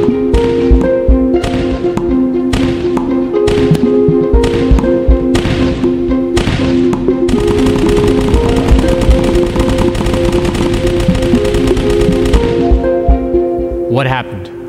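Tennis balls fired one after another at a slit barrier strike the wall with sharp, evenly spaced thwacks, over a steady mechanical launcher hum, then a rapid burst of hits.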